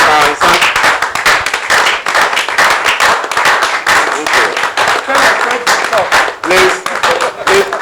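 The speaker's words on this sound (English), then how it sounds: "I will also ask everybody to be on his or her feet and give a big applause to Uncle Francis." Loud, sustained applause from an audience at a museum relaunch, dense clapping filling the whole stretch with a few voices mixed into the crowd.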